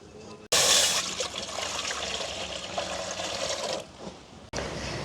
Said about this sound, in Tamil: பாத்திரத்தை வச்சு தண்ணியை விடுவேன்